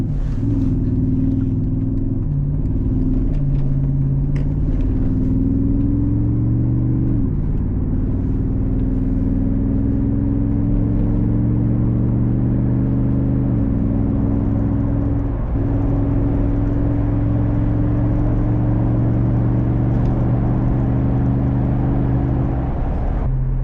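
Jeep SRT8 rebuild driving on a road, heard from inside with a steady low engine hum whose pitch climbs and steps at several gear shifts, constant road rumble underneath and no talking.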